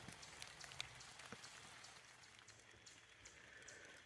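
Rain falls on a mountainside family cemetery in October, a soft, steady patter of drops on surfaces with a few louder close drips, faint and continuous with no voices.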